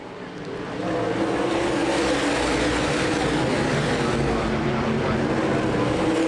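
Modified stock cars of the USA Modified Series roar past at Winchester Speedway, engine noise swelling in after a quiet first second and holding loud and dense as the pack races by.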